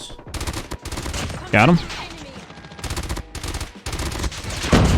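Burst-fire weapon in a shooter game, loud clipped bursts of gunfire repeating in blocks, with someone speaking briefly between them.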